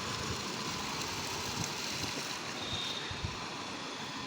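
Water gushes from a newly drilled borewell, a constant broad rushing hiss with a faint low churn, steady and unbroken throughout.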